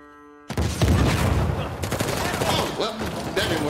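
Bursts of gunfire ring out in the video game Uncharted: The Lost Legacy, a dense, loud volley of rapid shots and impacts that starts abruptly and keeps going, with someone speaking briefly over it.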